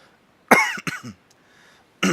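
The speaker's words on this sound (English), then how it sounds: "sorry for the coughing, I'm fighting a cold" A few sharp, close coughs from a person with a cold, in quick succession, then a pause before one more bursts out, with near silence between them.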